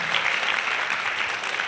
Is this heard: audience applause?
yes